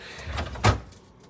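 The produce drawer at the bottom of a KitchenAid KRMF706ESS refrigerator is pulled open, giving a soft sliding rumble that ends in one short, sharp clack near the end, heard close up without talk.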